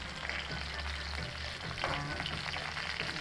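Eggplant slices fry in hot oil for pritong talong, giving a steady, close sizzle with crackling bursts, and one brief spoken word comes through near the start.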